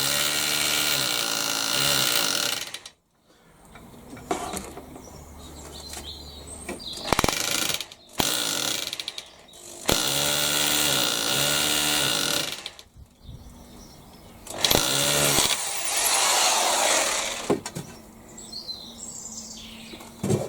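Bursts of a power drill grinding and whirring into a brick wall, stopping and starting several times with short pauses between.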